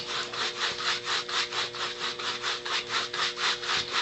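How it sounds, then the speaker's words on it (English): A brush scrubs Kanvas Koat paint onto a surface in quick, steady back-and-forth strokes, a close, even rasping rhythm repeating throughout with no talking. "We'll just kind of scrub it on up to the top here."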